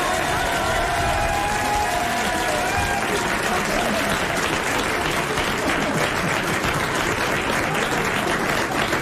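Loud, sustained studio audience applause on a 1993 French television show, dense and even throughout with a few faint voices and cheers mixed in.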